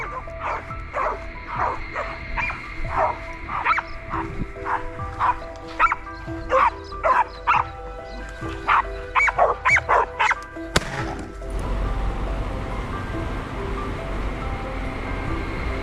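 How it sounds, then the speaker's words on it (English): A pack of hunting dogs bays and yelps over and over at a wild boar trapped in a swamp, with sharp barks close by in quick bursts for about eleven seconds before the sound cuts to a low outdoor rumble. "Trapped tight by our pack of hunting dogs."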